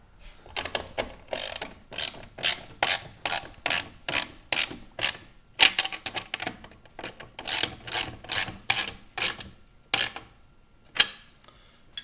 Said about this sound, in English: And then you can tighten up the bolts that you installed in step 1.